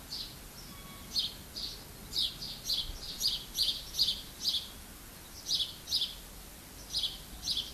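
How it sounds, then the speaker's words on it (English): Small birds chirp in short, bright bursts, repeated in irregular clusters over a soft, steady background hush; fairly distant and gentle. "think of the birds you hear"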